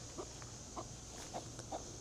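Backyard chickens cluck in short, scattered bursts, four or five soft calls in a garden chicken yard near a beehive, set against a faint steady background hum.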